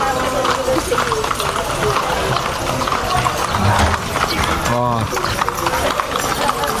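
Horses training for the Juego de Anillo contest at the Mayohan Festival in Tayabas City, with hooves clip-clopping over a dense outdoor crowd din and constant talk.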